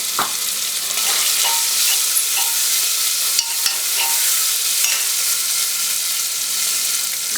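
Chopped onions hit hot oil with cumin seeds, cloves, peppercorns and bay leaf in a pan, giving a steady, loud, close sizzle with occasional light scrapes of stirring.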